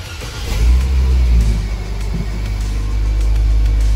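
A 2023 Nissan Sunny N17 car engine starting up, a low rumble that swells quickly then settles into a steady, loud idle close by, with no talk.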